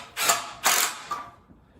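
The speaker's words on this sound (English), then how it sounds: "now I'm going to put the screws in the pocket hole" Screws being driven into pocket holes in wood while a flat for a haunted hotel facade is built, heard as two short whirring bursts from a drill, each with a clicking ratchet quality, then a brief softer tail, close and alone.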